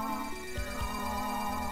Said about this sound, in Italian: È il verso di Spiritom.